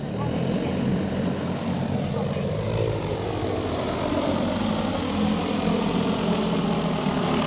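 Drone propellers spin on the ground in a steady, loud buzzing whine that holds unbroken throughout, with faint voices underneath.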